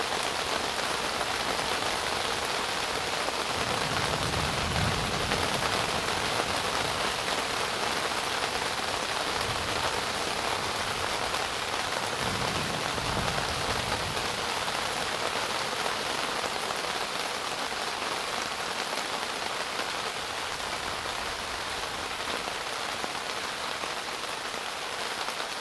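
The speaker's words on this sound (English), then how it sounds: "I'm in the middle of a storm." Steady, heavy rain pours down across Huntsville State Park during a storm under a tornado watch, a constant dense hiss with occasional low rumbles and no talk.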